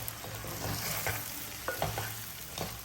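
Okra curry frying in a pan, stirred with a ladle that gives a few soft scrapes and taps over a continuous close sizzle, no voices.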